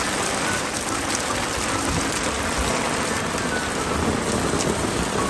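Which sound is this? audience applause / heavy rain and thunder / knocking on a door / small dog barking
heavy rain and thunder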